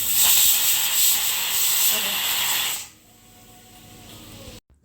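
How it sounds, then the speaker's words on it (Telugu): A pressure cooker hisses loudly with steady, broadband steam for about three seconds, then suddenly drops to a quiet background with faint clicks near the end. "ఇప్పుడు పొంగుతానే ఉంటుంది కుక్కర్ ఎందుకో"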